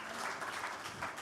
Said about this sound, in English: They deserve more applause.